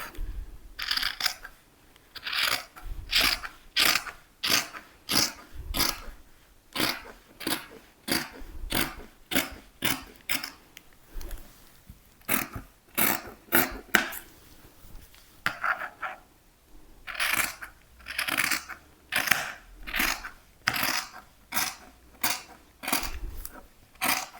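Scissors cut through a paper skirt pattern in a long series of crisp, rhythmic snips, close and fairly quiet, with brief pauses between bursts of cuts.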